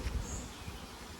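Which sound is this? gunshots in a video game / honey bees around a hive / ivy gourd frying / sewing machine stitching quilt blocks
honey bees around a hive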